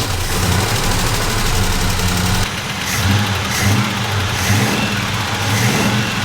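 A car engine revs loudly as the throttle is worked, a sustained roar that dips around the midpoint and then surges again in repeated throttle blips with a rough, throbbing tone.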